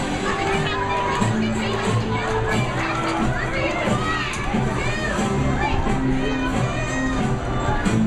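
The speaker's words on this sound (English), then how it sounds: "And now, a round of applause." Children cheer and shout in a noisy crowd at a Chuck E. Cheese's birthday party, a continuous close roar with scattered excited voices throughout.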